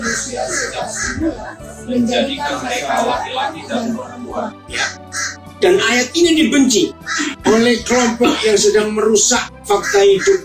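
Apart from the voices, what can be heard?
crows cawing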